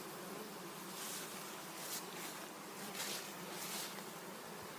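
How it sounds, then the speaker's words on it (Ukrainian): A steady, dense buzz of many honey bees at the wooden landing boards of a hive entrance, continuous and fairly close, with no voices. "Отак на цих прильотках себе веде бджола."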